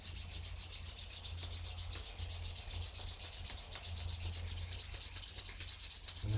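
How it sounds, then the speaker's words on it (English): Palms rub together in front of the heart during a yoga practice, making a continuous soft, close swishing friction with no talking. "Let's go ahead and start rubbing palms together in front of the heart."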